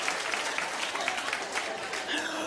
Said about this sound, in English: I don't know why they're clapping, but I suspect shade.